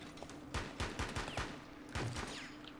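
Gunfire in the video game Rainbow Six Siege: a rapid series of sharp shots in uneven bursts, about eight cracks over a few seconds, fairly close and clear, with no talking.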